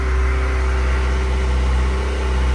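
A 2025 Kawasaki ZX-4RR motorcycle engine warms up at a steady idle, a loud, close, even drone with a constant low hum and no change in revs.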